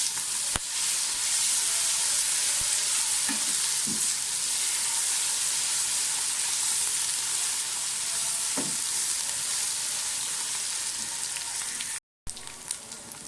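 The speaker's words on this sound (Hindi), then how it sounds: "प्याज हमारे फ्राई हो रहे हैं, होने वाले हैं।" Onions and garlic-ginger paste frying in a pan, a steady bright sizzle throughout with a few soft clinks of stirring, briefly cut off near the end.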